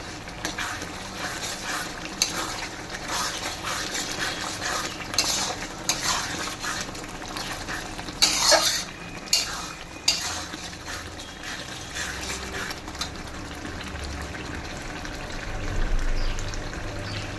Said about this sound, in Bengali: আচ্ছা, এখন এর মধ্যে হলুদ মিক্স করবো।